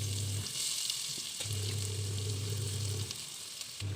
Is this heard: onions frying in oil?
yes